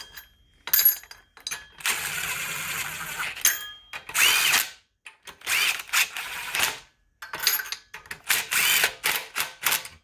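An impact driver runs down the head bolts on a Honda GX160 small engine during a piston ring and valve rebuild. Loud close bursts of whirring and hammering come in repeated runs of varying length, separated by short pauses.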